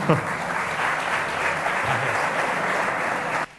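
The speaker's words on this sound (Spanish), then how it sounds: "un fuerte aplauso para Kiko, por favor" Audience at a business event in Elche applauds a speaker named Kiko: sustained clapping that starts with a brief voice, holds steady, then stops abruptly.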